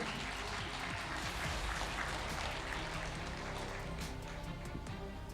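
A large seminar audience at a network marketing event claps together, dense sustained applause filling the room at steady loudness, with no voices over it.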